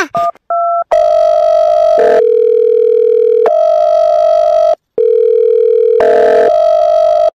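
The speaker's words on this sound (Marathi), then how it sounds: "फोन लावा लागेल बाबा" Telephone receiver tones while placing a call: short dialing beeps, then a steady loud dial tone broken into long sustained segments with brief gaps, clear and alone without speech.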